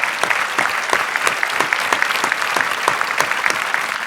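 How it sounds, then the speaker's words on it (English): A conference audience applauds the speakers after a panel discussion, steady loud clapping from many hands throughout. "give them a round of applause."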